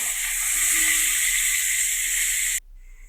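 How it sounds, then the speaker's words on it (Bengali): Potatoes fry until reddened in hot oil for a chicken curry, giving a steady, loud, close sizzle that cuts off abruptly near the end. "আলুগুলো মোটামুটি হয়ে গেছে লাল করে ভাজা"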